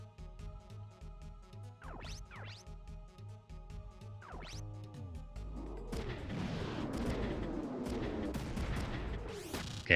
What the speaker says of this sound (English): last missile